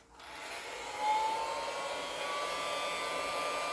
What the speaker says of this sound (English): So I'm brushing it.